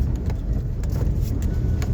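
A car reverses slowly and turns around, its engine a steady low hum from inside the cabin with faint clicks and knocks over it.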